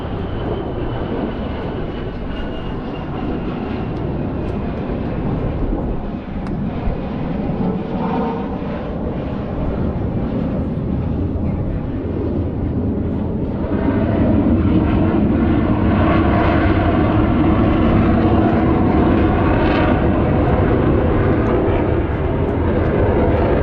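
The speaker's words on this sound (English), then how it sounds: "Lights his afterburners and hangs his jet strictly on the power of his two GE414" Blue Angels jet making a high angle-of-attack pass at the Pensacola NAS air show, afterburners lit on its two GE F414 engines: a loud, sustained, roaring jet rumble that swells and intensifies in the second half, with no talk over it.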